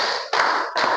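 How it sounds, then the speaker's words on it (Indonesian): A school class claps a counted rhythm together: loud, unified bursts of hand claps close up, with a sharp new onset between sustained stretches. "Tepuk 1, tepuk 2, tepuk 3,"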